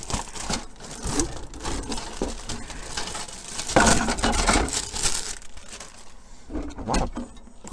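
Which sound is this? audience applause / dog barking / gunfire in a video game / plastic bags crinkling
plastic bags crinkling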